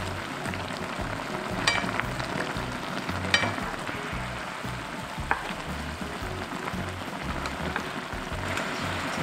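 A whole eggplant simmers over high heat in a pan with grain syrup and cooking wine, a steady dense bubbling sizzle throughout with occasional sharper pops and crackles, close and continuous.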